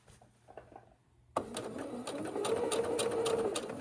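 A home sewing machine with a needle up/down feature starts up after a quiet moment and stitches steadily, with a fast, even mechanical whir and rhythmic clatter close by.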